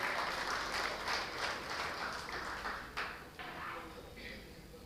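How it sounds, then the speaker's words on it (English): Applause for the first batch of players at a live auction for the Thane District Advocates Premier League cricket season, a fairly faint, uneven patter of hands that thins toward the end, with a few sharper knocks mixed in. "so please if we can have a round of applause."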